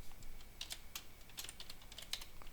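Quick, light clicks of a computer keyboard patter in irregular bursts, fairly close and soft, with no talking.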